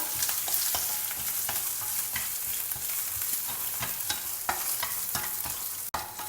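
Cashews and curry leaves sautéing in a hot pan, a close, steady, loud sizzle with a spatula stirring and scraping through it in irregular strokes, no voices, ending on a sharp knock.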